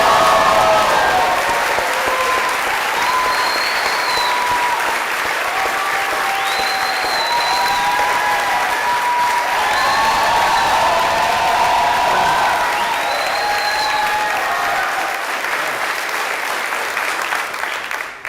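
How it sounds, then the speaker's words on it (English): A live audience claps in sustained, dense applause for well over a quarter minute, loud and steady, with a few scattered whoops rising above the clapping before it thins toward the end. "we can clap for you"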